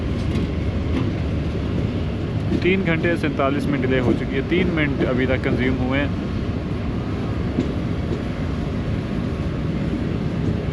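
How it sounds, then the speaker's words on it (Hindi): Tezgam passenger train running on the track as it enters Chichawatni, a steady loud rumble under someone talking close by throughout. "हमारी ट्रेन चीचावतनी शहर में दाखिल हो चुकी है"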